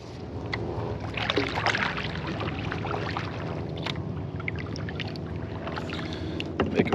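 A Current Designs sea kayak paddles solo through Florida water, with a steady, close wash of splashing strokes and dripping water that keeps up without a break and has no talking over it.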